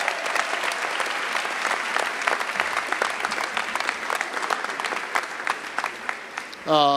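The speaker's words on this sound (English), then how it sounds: "Please give him a round of applause." A commencement audience applauds the university organist with steady, dense clapping from a large crowd that holds for several seconds before a brief voice at the very end.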